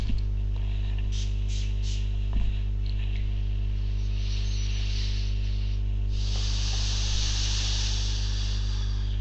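Several quick spritzes from a spray bottle, followed by a longer hissing spray, over a steady low electrical hum.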